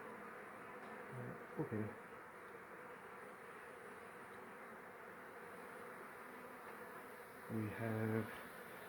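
Honey bees buzz in a continuous, close swarm drone during removal of a long-established hive from inside a wall, with two short bursts of speech rising briefly over the hum.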